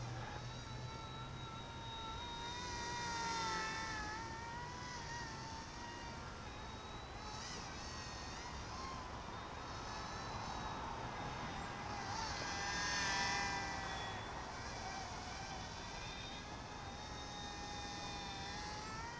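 A small C-186 RC helicopter flies at dusk outdoors, its rotor and motor giving a steady high-pitched whine and whir that swells slightly louder twice as it passes closer, with no talking.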